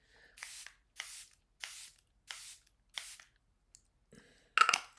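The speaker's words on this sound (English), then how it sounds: "I'm going to go in with my Charlotte Tilbury spray." Five short, evenly spaced hissing bursts from a pump bottle of Charlotte Tilbury makeup setting spray, close and crisp, followed by a pause, soft clicks and a louder rustling clatter as brushes are handled.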